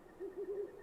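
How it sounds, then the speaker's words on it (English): A single owl in the video game My Little Puppy gives a soft hooting call of a few short notes at night, fairly faint over quiet ambience. "I can only hear the crickets. And the owls, too."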